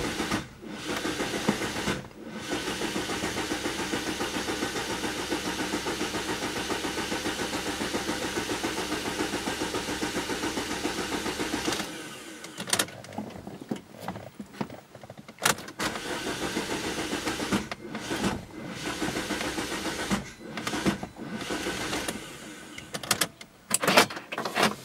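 A car engine cranks repeatedly without catching, with a long whirring starter run followed by several shorter cranking bursts separated by pauses, close and fairly loud.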